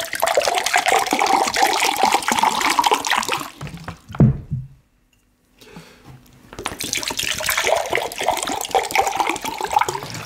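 Water is poured for washing hands before a meal of oat fufu and banga soup, running in a loud close stream, breaking off into a brief silence, then resuming.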